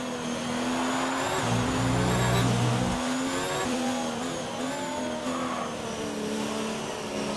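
Formula 1 race cars in the video game F1 2019, a loud, continuous high-pitched engine whine with shifting revs and a gear change, close and sustained without talk.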